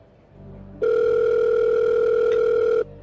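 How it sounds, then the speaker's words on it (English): Telephone ringing in the Hercule Poirot: Murder on the Orient Express video game, a single loud, steady electronic tone that starts abruptly, holds for about two seconds, and cuts off, over faint background sound. "that is a loud phone ring"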